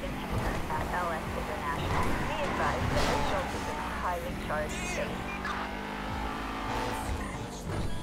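In Grand Theft Auto V, a car's tires squeal and skid amid engine noise and game sound effects, while someone talks over the action.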